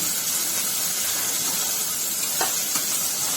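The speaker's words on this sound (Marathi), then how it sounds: "कांदा मऊ होईपर्यंत परतवून घेऊया" A large onion sizzles and hisses steadily in a hot pan while being sautéed until soft, a continuous broadband frying sizzle with a couple of faint brief clicks, no talking.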